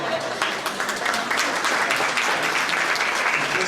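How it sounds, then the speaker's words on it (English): Sustained audience applause at an awards breakfast for a human rights commission, a dense steady wash of many hands clapping close and loud throughout. "Just hold your applause until we get them all read."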